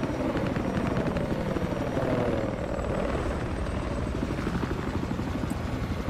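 Helicopter in the video game Battlefield 4, a steady loud rotor drone with a rhythmic chop that holds throughout.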